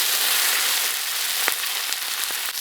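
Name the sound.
chili peppers frying in oil in a wok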